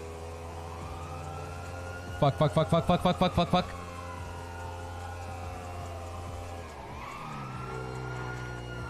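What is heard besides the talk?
police motorcycle siren in a video game chase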